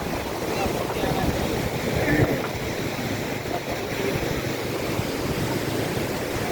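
Sea waves at Puri beach in Odisha roll in as a steady, broad surf wash with wind noise across the microphone, continuous and fairly loud throughout.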